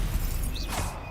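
Stupefy spell cast in the Hogwarts Legacy video game, a brief burst of crackling whoosh and impact noise over busy combat sounds, loud and close.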